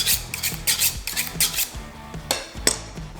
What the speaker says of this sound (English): sharpen that knife